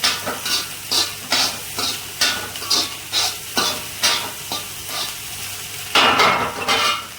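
Vegetable fried rice, Chinese style, is stirred in a hot pan with a spatula, giving rhythmic scraping strokes roughly every half second over a steady sizzle, close and loud.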